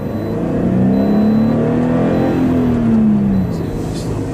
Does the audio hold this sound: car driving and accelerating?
yes